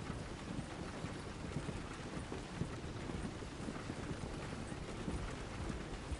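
Steady clip-clop of horse hooves trotting at an even rhythm in the video game Red Dead Redemption 2, mixed with a soft rushing noise like wind or rolling wheels.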